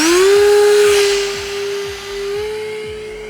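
Hall Cherokee RC glider's electric motor pod running at about half throttle, a steady high whine with a slight pitch drift, close and loud, continuing alone as the hand-launched glider climbs away over thick grass.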